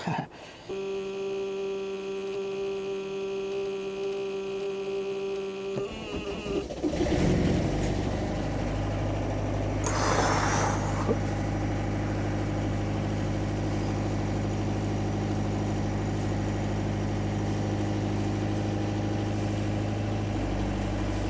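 A Universal diesel sailboat engine cranks and starts after a starter replacement. A steady tone gives way to a short burst of cranking, then the engine settles into a loud, even idle that runs steadily to the end.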